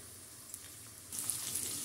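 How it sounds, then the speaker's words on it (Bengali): Onions frying in oil in a pan, a quiet sizzle that swells louder partway through, steady crackling with no one talking. "ততক্ষণ পর্যন্ত ভাজবো পেঁয়াজগুলো"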